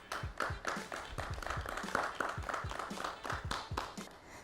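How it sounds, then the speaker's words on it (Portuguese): An audience at an arts and culture event applauds, a short, fairly faint burst of clapping with distinct individual claps in a quick, uneven rhythm. "Uma salva de palmas."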